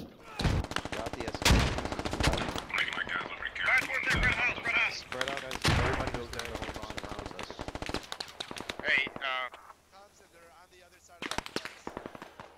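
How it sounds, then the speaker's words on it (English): Mortar impacts and dense automatic gunfire in the Squad military shooter, with rapid bursts and heavy thuds crowding together in a sustained firefight while voices talk over the battle noise. "mortars are coming in west side"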